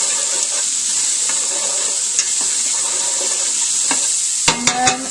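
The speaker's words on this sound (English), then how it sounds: "I'm going to stir all of this so that all the vegetables get coated in the oil." Vegetables for butternut squash soup sizzling in oil in a pot, a loud constant hiss with occasional scraping strokes and a few clanks of a spoon near the end, close and without talk.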